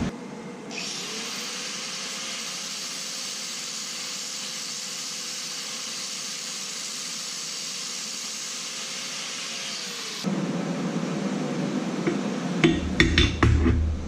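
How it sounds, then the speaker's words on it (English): A steady high-pitched whine of a drill press and angle grinder running continuously, then a louder grinding roar with rattling clanks near the end. "turn the drill press on, turn the angle grinder on, and turn them down"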